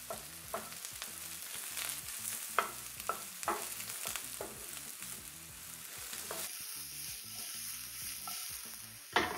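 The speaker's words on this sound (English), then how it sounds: "we're gonna cook these in here pretty quickly, just for like 2 to 3 minutes, and we're gonna stir the whole time" Mushrooms sizzle in avocado oil in a pan while being stirred constantly, with a soft frying hiss broken by repeated clacks and scrapes of the utensil at an uneven rhythm.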